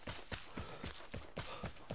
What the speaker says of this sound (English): That's your footsteps.